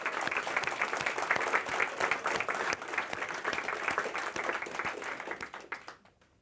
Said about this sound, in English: So I definitely want to send a round of applause to them.